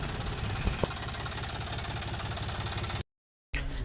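A tractor engine runs steadily while being ridden, a loud, even mechanical drone with a brief cut near the end.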